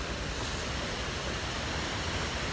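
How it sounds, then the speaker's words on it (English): The upper falls of Greeter waterfall pour in a steady, dense rushing roar, broadband and unchanging, heard close with no voices. "This is one of my favorite waterfalls for sure."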